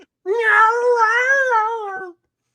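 A single cat gives one long, loud, drawn-out meow close by, wavering in pitch before cutting off cleanly, with silence on either side.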